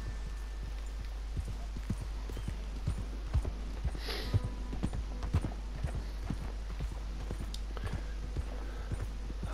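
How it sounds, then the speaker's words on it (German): A horse's hooves clip-clop steadily at a walking pace while being ridden in Red Dead Redemption 2, close and moderately quiet over a low steady hum. "Warte mal, wir reiten mal kurz hier runter."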